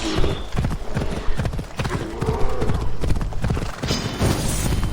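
Rapid, rhythmic hoofbeats of a galloping horse in Assassin's Creed Odyssey, loud and close, with a brief whinny and layered game ambience underneath.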